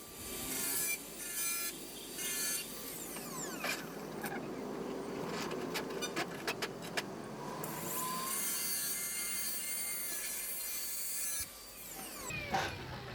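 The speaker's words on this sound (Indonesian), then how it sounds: "atau bisa memakai gergaji besi ya. Yang penting pelan-pelan, yang rata ya pemirsa ya" Hacksaw cutting through a plastic oil funnel by hand, a steady rasping scrape with uneven strokes and brief clicks, fairly close and continuous, with no speech.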